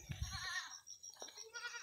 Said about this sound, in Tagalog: May isang kambing din dyan sa baba.